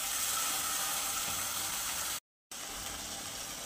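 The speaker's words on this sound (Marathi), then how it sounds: "आता ह्या साईडने पण आपण छान फ्राय करून घेणार आहोत झाकण ठेवून" Fish frying in a covered pan on the stove, a steady broadband sizzle that holds loud and even throughout, broken once by a brief total dropout before the same close frying hiss resumes.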